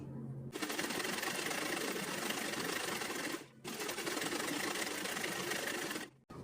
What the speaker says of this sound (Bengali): সেলোয়ারের হাইটা ঠিক রেখে এখন আমরা সেলাইটা করে নিচ্ছি